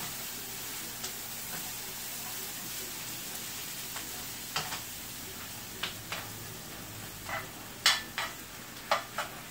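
Three cloves of garlic fry in a pan with a soft, continuous sizzle. Faint crackles and pops break through every second or so, growing a little sharper toward the end, with no voices.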